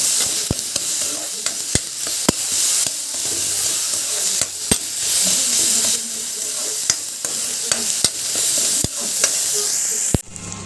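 Tomatoes with salt cook in a pan for a mixed saag of spinach, mustard greens, bathua and methi, giving a loud, continuous close sizzle punctuated by sharp utensil clicks and taps from stirring, cutting off abruptly at the end.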